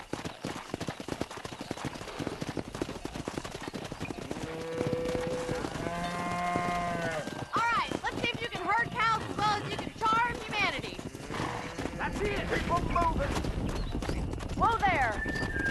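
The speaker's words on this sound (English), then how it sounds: "Herd the cows down the road." Cattle being herded down a road with horse hooves clip-clopping in the video game Red Dead Redemption, with a horse whinnying and cattle lowing midway, while voices talk over the steady hooves.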